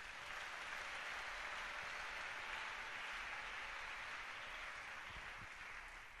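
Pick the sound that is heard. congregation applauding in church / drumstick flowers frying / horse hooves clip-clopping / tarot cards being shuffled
congregation applauding in church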